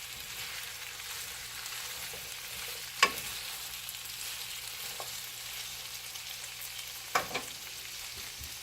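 Kielbasa skillet dish sizzling steadily in a pan, stirred as it cooks down, with a constant frying hiss and a few sharp utensil scrapes and clinks against the skillet.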